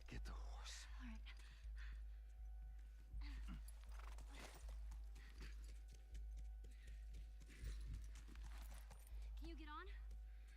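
Steady rhythmic clip-clop of horse hooves in the video game The Last of Us Remastered plods along over a low hum, with faint whispery voices now and then.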